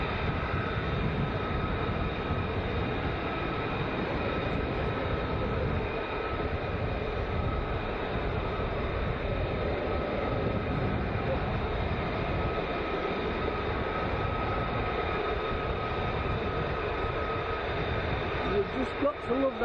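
Military B variant jet aircraft at RAF Lakenheath taking off, a loud continuous engine roar filling the whole stretch, steady and sustained with no pauses, sounding fairly close.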